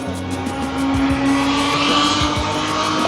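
Classic race cars lapping the Montlhéry circuit pass in a loud engine snarl that swells and revs close by, with a faint tire squeal as they go.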